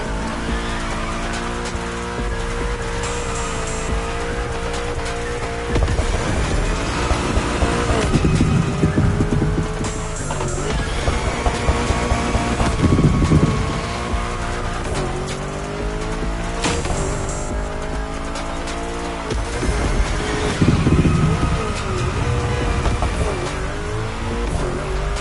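Drifting car in the racing game The Crew Motorfest, engine droning and revving steadily with repeated tire squeals through bends, accompanied by background music.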